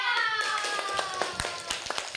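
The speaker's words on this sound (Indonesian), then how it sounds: "Ya tepuk tangan dulu deh" Elementary school classroom children clapping hands in a brief scattered burst of sharp claps, fairly close, with a voice speaking over the start.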